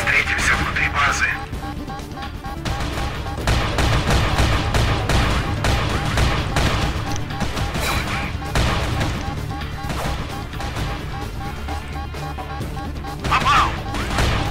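Gunfire in the video game Chrome: SpecForce, with repeated sharp shots and crashing impacts spread across the passage, mixed under someone talking.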